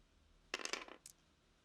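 Two dice tumble onto a tabletop during a miniatures wargame, a quick clatter of rattling hits lasting about half a second, then a single lighter tick as one settles, close and clear with no talk.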